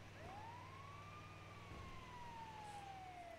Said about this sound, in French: Je vais mettre les sirènes, d'accord?